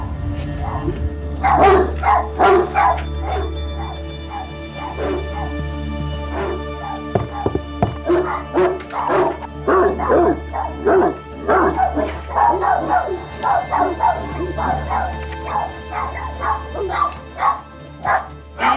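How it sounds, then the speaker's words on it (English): A Great Dane barks repeatedly indoors, deep, loud bursts that come in irregular runs over a low steady hum, with some whimpering between them. "because I can hear the dog from here."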